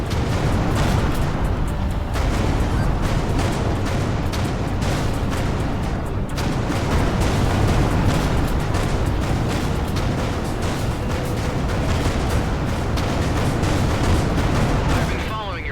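Dense, continuous barrage of explosions and weapon fire in the space-combat game Everspace 2, loud and relentless with rapid overlapping blasts and crackling bursts, under occasional speech.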